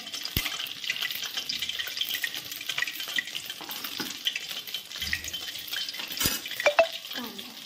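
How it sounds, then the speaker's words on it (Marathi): Mustard seeds are added to hot oil for tempering in a vada pav recipe, giving a soft, steady sizzle with faint crackles and a few light clinks of utensils, fairly quiet and close. "आता तेल गरम करून घेतलं, आपण मोहरी टाकायची आहे."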